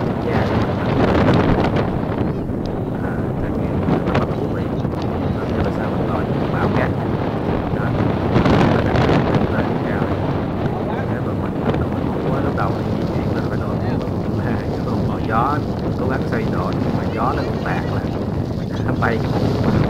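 Strong gusting wind in a white sand desert during a sandstorm buffets the microphone with a loud, continuous roar and rumble, and voices speak faintly underneath throughout.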